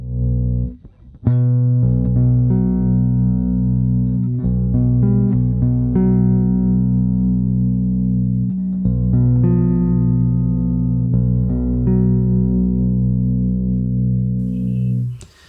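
BexGears 8-string guitar built from a kit, played alone as a tone test: sustained chords and melodic notes ring out clearly with a full, heavy-string low end, briefly pausing near the start.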